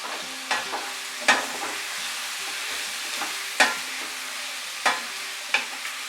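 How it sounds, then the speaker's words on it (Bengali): Potatoes and boiled young jackfruit fry together over medium heat, a soft continuous sizzle broken by sharp scraping clatters of a spatula stirring the pan at irregular intervals. "আমি কিন্তু ভালো করে আলু আর এঁচোড়টাকে ফ্রাই করে নিলাম মিডিয়াম আঁচে"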